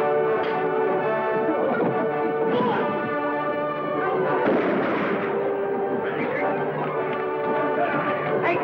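Gunfire sound effects in a fight scene from a 1949 radio western drama, with dense repeated shots and bursts layered with music and raised voices throughout, loud and continuous.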